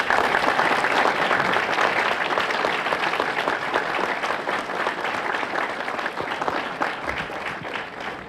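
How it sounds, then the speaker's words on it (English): Steady, dense applause from a standing crowd at a breakfast event honouring student athletes, sustained for the whole stretch and easing off slightly toward the end. "please stand and let's give them a round of applause"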